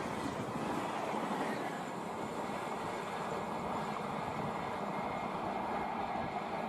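An Indian express train races past at high speed, around 130 km/h, giving a loud, steady roar of wheels and rushing air that holds evenly throughout with no voices.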